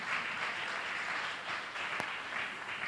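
A church congregation at a Sunday service claps hands together, a steady dense wash of applause from many people, moderately distant and sustained throughout.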